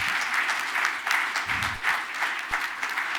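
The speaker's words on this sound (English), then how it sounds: "So can we give them a big round of applause, please?" A conference audience gives a steady round of applause for a national team from Malawi, with dense, even clapping that holds for the full stretch and no voices over it.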